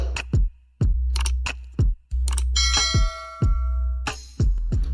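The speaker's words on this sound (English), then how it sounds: "you press the notification bell" Repeated notification bell chimes ring out about eight times in an uneven rhythm, each a bright, close ding with a short ringing decay, over a steady low hum and no talk.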